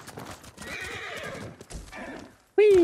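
In the video game Ghost of Tsushima, a horse whinnies and hooves clop on the ground, followed at the end by a sudden loud tone.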